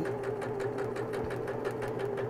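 A sewing machine stitches fabric for a beginner marble maze project, a steady close hum with rapid needle chatter running continuously and loud, with no talk.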